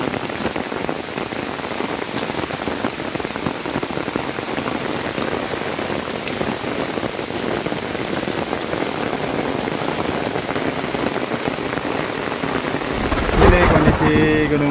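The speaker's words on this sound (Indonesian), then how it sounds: "Akhirnya hujan juga." Steady heavy rain pours down on Mount Salak in a dense, even hiss throughout, with a brief voice near the end.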